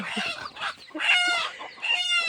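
Village chickens clucking in a busy flock, with bursts of overlapping squawks and a drawn-out higher call, fairly close and steady throughout.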